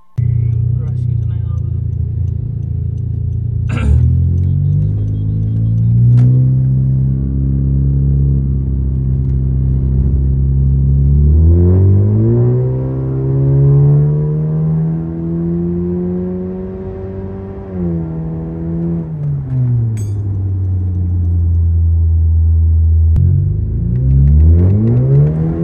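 A Honda Civic pulls hard on a test drive along an open road, its mid-pitched engine note climbing and falling through several revving surges that run steadily for the whole stretch, loud and close from inside the car.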